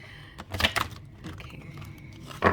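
Oracle cards riffle and slap together in a few quick bursts, close and crisp, with a short pause before a final shuffle.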